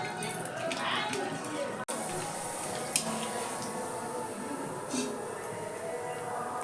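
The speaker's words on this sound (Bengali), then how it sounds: "তো দেখো আবারও একটা আমি ভেজে নিলাম একইভাবে।" Potato papad frying in hot oil, a soft continuous sizzle with a sharp click of a utensil partway through and a few light clatters, heard close under a talking voice.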